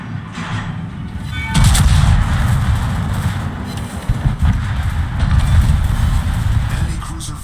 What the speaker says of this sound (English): All 5 guns can fire on a broadside.